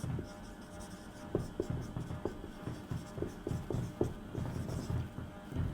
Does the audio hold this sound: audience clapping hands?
no